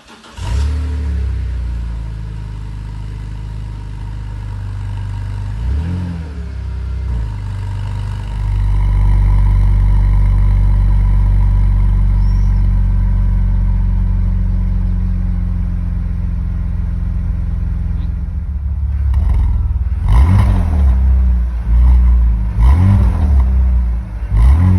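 A BMW E46 with a modified exhaust idles with a low, steady rumble, then blips its throttle in several close, loud revs. A long sustained rev swells midway, and sharper bursts follow near the end.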